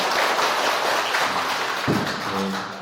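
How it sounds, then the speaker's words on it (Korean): A church congregation applauds during a Mass homily, a moderate steady patter of clapping that thins toward the end, as a low voice begins to speak over it. "박수 한번 주실까요?"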